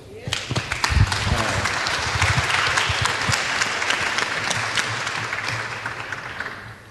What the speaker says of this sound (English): can you please just give yourself a round of applause?